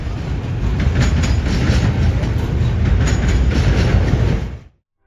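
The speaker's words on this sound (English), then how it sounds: "3 trains, same horns in a row." Freight train rolling past close by in Cordele, Georgia, a loud, steady rumble and clatter of wheels and cars that cuts off abruptly near the end; no clear horn blast stands out and no one speaks.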